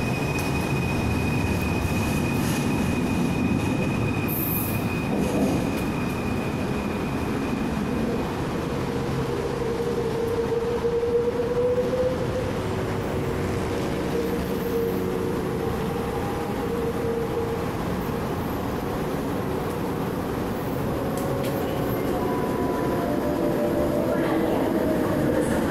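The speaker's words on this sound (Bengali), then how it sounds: "এই যে আমরা দেখতে পাচ্ছি ট্রেনটা আসতেছে," An LRT train pulls into a station in Malaysia, its steady rumble and rail noise filling the platform throughout, with a faint wheel squeal and a few soft voices in the background.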